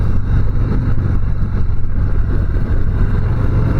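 A 2023 Harley-Davidson Softail Heritage with its stock exhaust pipe rumbles steadily at close range, a loud, deep, continuous engine drone.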